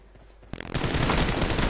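A Groza assault rifle in PUBG Mobile opens up suddenly after a near-silent moment and keeps firing in one loud, dense, continuous automatic burst.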